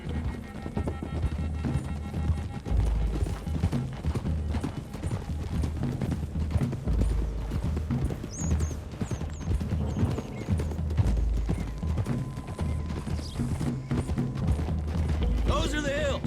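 Horses' hooves clop steadily along a road in the video game Red Dead Redemption 2, a continuous galloping rhythm heard up close under voices talking.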